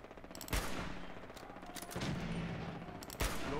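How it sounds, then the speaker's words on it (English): Gunfire in the Fallout 4 video game as a robot is shot: a few sharp, fairly quiet bursts of shots over a busy, noisy game background. "I shot the robot in the dick."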